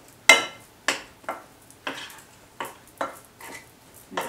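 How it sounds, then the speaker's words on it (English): A spoon mixing dumpling dough in a bowl, knocking against the sides in steady clinks about twice a second, close and clear with no talking. "And I use a spoon and I mix until everything is really nicely incorporated."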